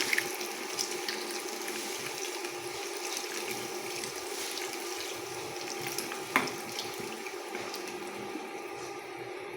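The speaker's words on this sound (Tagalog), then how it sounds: "ilalagay ko na yung Sprite" Sprite pours into a simmering cooking pot in a steady, close, fizzing splash with a continuous hiss of liquid and bubbling.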